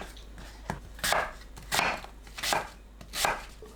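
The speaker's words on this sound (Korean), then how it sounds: "양파, 사과를 믹서에 갈기 좋은 크기로 썰어줍니다." A knife chops through onion and apple on a cutting board, several muffled thuds in a slow, uneven rhythm close by.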